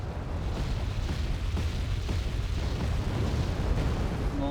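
A napalm strike in the Wargame Red Dragon battle game makes a dense, continuous roar of burning and rumbling blasts, loud and unbroken for several seconds.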